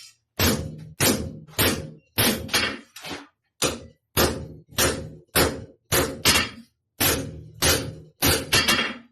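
Hammer blows ring out on hot steel while a Japanese weeder is forged, about fifteen sharp, bright strikes in an uneven rhythm, loud and close with brief pauses between groups.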